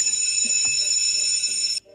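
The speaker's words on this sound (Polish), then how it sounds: "Dzwonek jest dla nauczyciela." A school bell rings with a continuous, loud electric trill that holds steady for almost two seconds and then cuts off abruptly, leaving near silence, with no voices.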